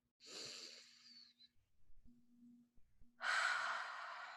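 Two deep breaths, close and soft, taken during a tapping exercise for sleep trouble: a long airy inhale, a pause with faint low sounds, then a second strong breath.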